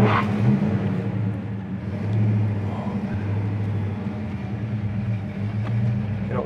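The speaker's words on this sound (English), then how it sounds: "the exhaust sounds freaking sweet." A 1970 Pontiac GTO Judge rumbles steadily while driving, its exhaust a deep continuous drone with slight swells in throttle, heard close from inside the car with no talking.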